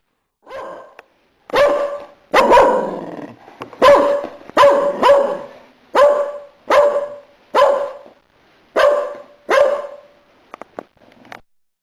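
Farm dogs bark repeatedly, loud and close, in a steady series of sharp barks separated by short pauses.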